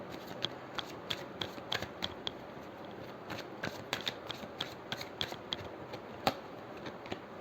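Tarot cards shuffled and drawn from a deck: a steady run of crisp riffling flicks and light slaps at close range, with no talk.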